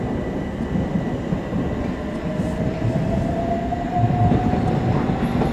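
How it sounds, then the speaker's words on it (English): A c2c passenger train pulls out of Barking station on the London Tilbury & Southend line, a steady loud rumble of wheels and traction with a rising motor whine throughout, close by. "departing here is the service from London Fenchurch Street to Shoeburyness."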